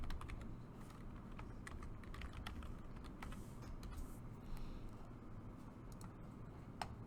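Rapid, quiet tapping on a computer keyboard runs through the whole stretch. Scattered sharper key clicks stand out over a low background hum.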